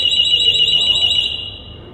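An annunciator alarm on an RTCC transformer control panel, set off by pressing the test button, gives a loud, steady high-pitched electronic tone with a warbling edge for over a second before it drops away.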